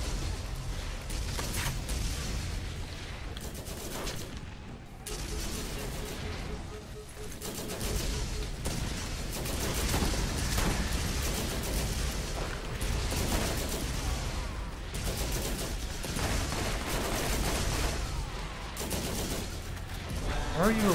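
Dense automatic gunfire from the Borderlands video game rattles almost nonstop for about twenty seconds, loud bursts overlapping with scattered booms, and voices can be heard over the shooting.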